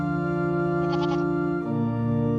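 Goat bleating, a single loud, close, wavering call that drops in pitch near its end and sounds alone.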